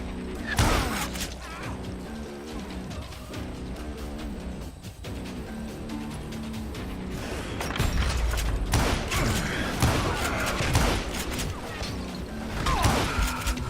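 Gunfire in the Western shooter Call of Juarez: Gunslinger, with repeated loud shots and impacts over dense game music and effects, continuous and busy throughout.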